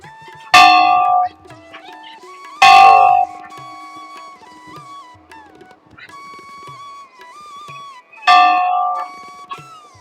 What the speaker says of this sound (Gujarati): બહુ મોટો ઘંટ છે, આને કહેવાય મોટો ઘંટ